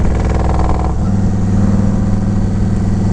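Carbureted Yamaha Road Star 1700 Silverado touring motorcycle idles loud and close, a deep steady rumbling throb that shifts slightly to a lower, smoother beat about a second in.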